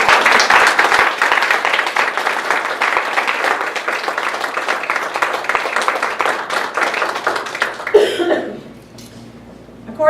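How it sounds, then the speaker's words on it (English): An audience at a contest gives a round of applause for the contestants, dense sustained clapping with a few coughs mixed in, fading to near quiet at the very end. "I ask for a round of applause."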